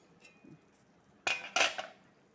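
A metal pot lid is lifted off a pan of frying bitter gourd, giving two close, bright clattering clinks about a third of a second apart after a quiet start, with no talk.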